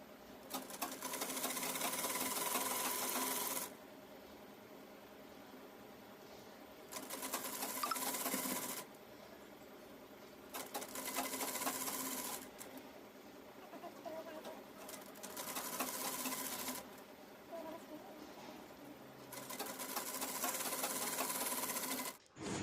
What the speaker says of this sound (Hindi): पाव इंच के कॉर्नर पे स्टिच करते हुए डिज़ाइन को कंप्लीट करेंगे।